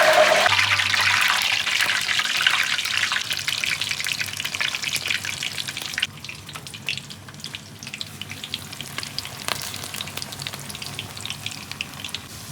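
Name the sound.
pakoras frying in hot ghee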